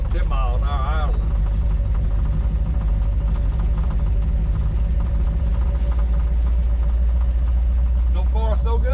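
A 1934 Ford Coupe's engine gives a low, steady rumble throughout with a constant hum while idling along in first gear at about 10 mph, joined by brief tonal squeaks near the start and end; continuous and fairly loud.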